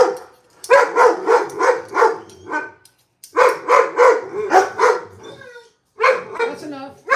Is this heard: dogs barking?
yes